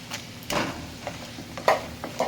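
Urad dal, peanuts, chana dal and cashews fry in a pan with a soft steady sizzle, punctuated by several sharp scraping taps of stirring, close and alone.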